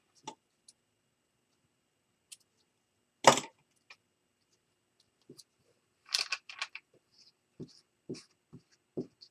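Paper being cut for a journal, a handful of sharp, isolated snips and rustles with quiet gaps between them, close and fairly faint.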